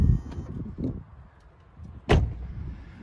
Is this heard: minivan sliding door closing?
yes